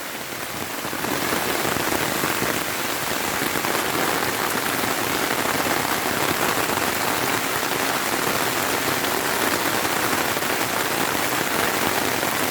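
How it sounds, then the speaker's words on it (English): Steady, heavy rain pours down in the Jamaican countryside without pause, a dense even patter on surfaces close by. "there is nothing like walking in the rain in the country"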